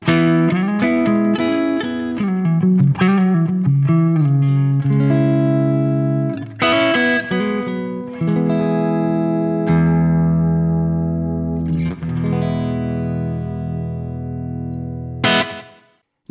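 A Neural DSP Soldano SLO 100 amp model on its clean channel carries electric guitar chords and single notes that ring out and sustain, close and steady, ending in a short final strum with no talking.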